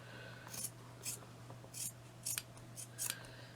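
Scissors snip through excess fabric on a craft wall plaque, six short crisp cuts in an uneven rhythm, close and fairly quiet over a low steady hum.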